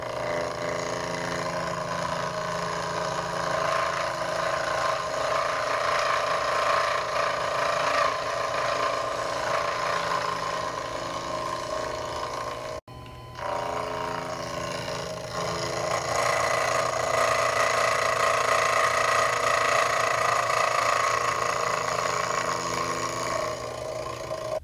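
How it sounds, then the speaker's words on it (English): A Proxxon FF230 milling machine cuts a small metal part, taking light passes with a slitting saw; a steady, loud motor whine with cutting noise runs throughout, broken by a brief dip near the middle. "It took about 3 passes with this mill."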